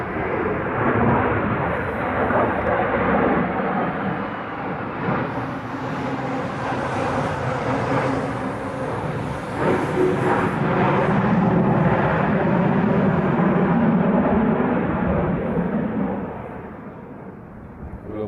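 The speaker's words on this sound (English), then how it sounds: "speaking of fighters, there's some more fighters right there" Fighter jets flying in to land in Hawaii, a loud sustained jet roar that swells and holds for many seconds before easing off, with no talk over it.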